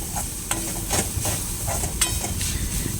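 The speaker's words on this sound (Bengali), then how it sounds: "এবারে ভাজা ভাজা হয়ে গেলে এর মধ্যে একটু জাস্ট সামান্য আমি ধনে গুঁড়ো আর জিরের গুঁড়ো দিয়ে নাড়বো" Coriander and cumin powder being stirred in a hot frying pan, a dense close sizzle with repeated scraping strokes of a spoon against the pan.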